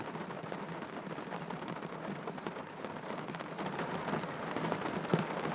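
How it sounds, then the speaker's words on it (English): Steady rain falls in Glencoe, Scotland, a dense continuous patter on surfaces that swells slightly toward the end, with no voices present. "it is raining a lot right now"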